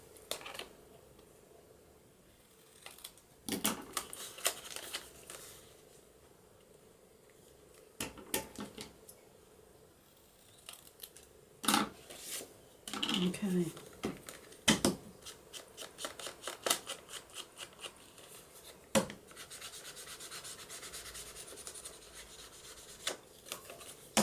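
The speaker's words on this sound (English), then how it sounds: "Scissors." Scissors snip the corners off a paper journal tag, giving scattered short crisp cuts and rustling of paper close by, with a brief spoken word.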